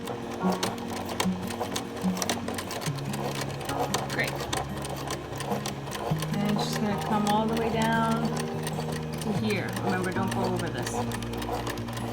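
A sewing machine stitches the lining of a cloth face mask with a steady, close whirring hum that shifts pitch as it starts and stops, while someone talks over it.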